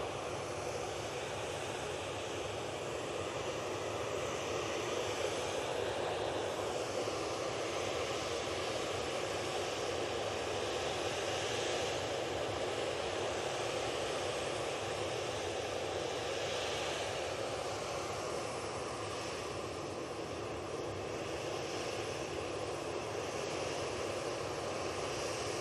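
Aircraft engines running at Manchester Airport make a steady, loud, broadband roar that holds for the whole stretch, with a slight hiss on top and no voices over it.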